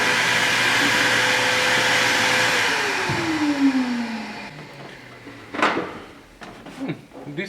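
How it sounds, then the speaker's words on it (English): A vacuum motor whines loudly, then spins down with a falling pitch, followed by a few clunks and shuffling handling noises up close. "So first let me vacuum this."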